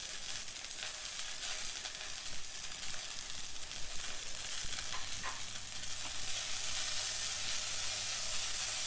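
Cabbage, boiled peas and chopped yellow and green capsicum sauté in a hot pan with a continuous crackling sizzle and light stirring, a low hum joining midway.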